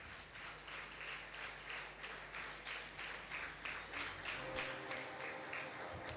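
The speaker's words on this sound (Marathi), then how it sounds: "जॉयसीच्यासाठी आपण जोरदार टाळ्या वाजवणार आहोत" An audience applauds at a church anniversary thanksgiving service, a steady wash of many hands clapping at moderate distance and fairly quiet, with no voices over it.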